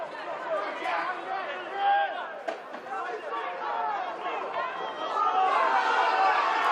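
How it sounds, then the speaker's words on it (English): Restless rugby league crowd murmuring and chattering throughout a Featherstone v Oldham match, a steady broad roar that swells louder toward the end, with a commentator talking over it. "crowd are getting really restless with this"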